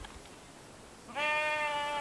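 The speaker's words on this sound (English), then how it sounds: "Many, many sheep." A flock of sheep in the Cotswolds countryside of England, one loud bleat rising clearly in the second half after a quiet outdoor hush, close and sustained.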